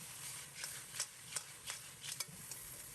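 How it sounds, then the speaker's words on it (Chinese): Razor clams being stir-fried over high heat in a wok with a poured-in sauce, soft scraping stir strokes at a fairly regular rhythm over a quiet sizzle, close and faint. "接下来倒入调好的料汁，继续开大火翻炒，使料汁快速成熟"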